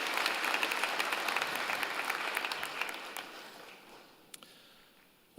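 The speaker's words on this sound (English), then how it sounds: "join me and the platform in thanking them with a vigorous round of applause" Audience applause at a university science convocation ceremony, a broad steady wash of clapping that gradually thins and fades over several seconds, with a few scattered late claps at the end.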